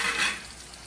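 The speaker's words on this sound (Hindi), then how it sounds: "क्या ही मस्त हमारा पनीर जो है फ्राई हो गया दोस्तों" Paneer frying in a pan gives a brief close sizzle that swells and then fades within a second, with no voices.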